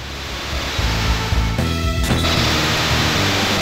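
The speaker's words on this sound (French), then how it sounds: "On a inversé le cours de la cascade." A waterfall made to flow in reverse in the video game Golden Sun, a loud, steady rushing wash of water with a brief change in tone midway, no voices.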